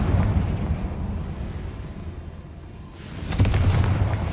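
Confringo fire spell blast in Hogwarts Legacy: a low rumbling burst that swells and fades, followed by a second louder boom with crackling debris near the end.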